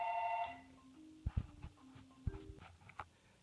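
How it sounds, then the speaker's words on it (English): A telephone rings indoors with a short electronic warbling tone, followed by clicks and handling knocks close by, then quiet. "Got a phone call."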